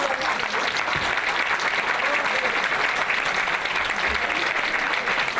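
An audience at a commemorative talk claps steadily and warmly for several seconds, even and continuous without a break.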